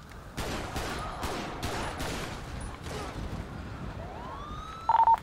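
Gunfire in the video game GTA 5 with the LSPDFR police mod: several loud, sharp bursts of shots in the first half, followed by a police siren wailing upward near the end.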